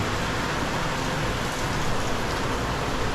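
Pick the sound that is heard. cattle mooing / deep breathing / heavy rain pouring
heavy rain pouring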